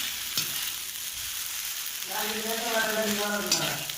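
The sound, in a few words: egg noodles frying on stove over low flame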